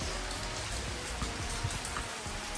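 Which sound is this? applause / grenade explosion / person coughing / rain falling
rain falling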